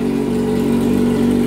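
A Yamaha XJ6 motorcycle engine, suspected of having seized, runs steadily in a workshop with a close, loud, even mid-pitched drone and regular pulsing, no voices.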